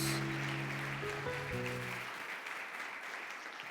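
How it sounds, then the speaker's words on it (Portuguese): Church congregation applauding a ministry, a dense continuous wash of clapping that holds steady and fades slightly, with sustained music tones underneath early on. "Você pode dar um aplauso para esse ministério abençoado?"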